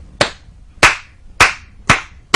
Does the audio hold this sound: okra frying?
no